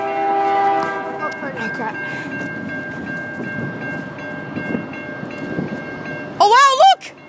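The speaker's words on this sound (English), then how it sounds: "Vintage locomotive on the back! Look at that! sd60f!" A CN freight train with a vintage SD60F locomotive passes by, its horn sounding loud sustained chords at first, then a rolling rumble of cars, with excited voices talking over it and a sharp squeal near the end.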